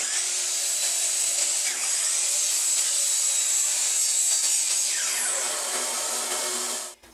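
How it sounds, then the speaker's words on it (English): A handsaw cuts a 6-inch piece of wood with a continuous, even rasping stroke sound, close and steady until it stops abruptly at the end. "we're going to cut a piece of wood that's 6 inches long"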